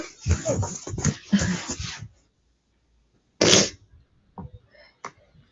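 A person sneezes once, sharp and loud, after a stretch of talk in a quiet room, with faint small noises following.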